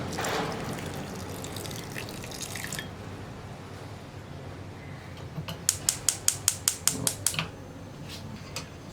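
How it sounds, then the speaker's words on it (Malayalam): Water is poured over jaggery for an ela ada filling: an opening rush of pouring, then a quick run of sharp, evenly spaced drips, close and clear. "ഇതിലേക്ക് നമുക്ക് വെള്ളം ചേർക്കാം."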